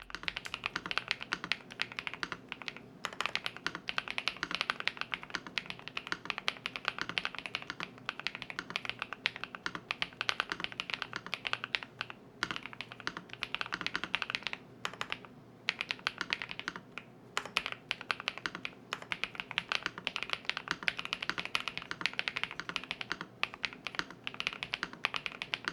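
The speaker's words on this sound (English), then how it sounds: "allow me to show you exactly what this sounds like" Typing on an Epomaker TH65 keyboard fitted with Creamy J switches, a continuous run of soft, rapid keystroke clacks close up, with brief pauses between bursts and no talking.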